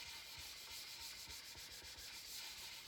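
A tracker style knife is drawn across worn sandpaper laid over closed cell foam, giving a steady, close, gritty rasp in repeated even strokes without pause.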